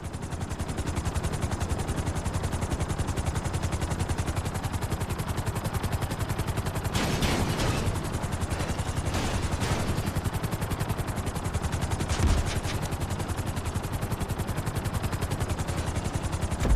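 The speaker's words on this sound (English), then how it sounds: "Bring the helicopter down gently onto the helipad." A helicopter sets down on a helipad in the video game GTA V, its dense rotor chop and engine drone loud and constant throughout, with a few brief sharper bursts, and no voices.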